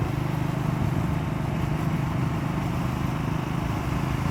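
A Triumph Scrambler 400X with its 400cc single-cylinder engine hums steadily while riding, a continuous low drone that stays even and fairly loud throughout, with no voices.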